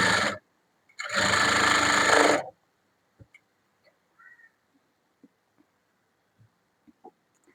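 A sewing machine stitches a plain blouse in two quick runs, one very short and one lasting over a second, followed by faint scattered clicks and handling of the fabric.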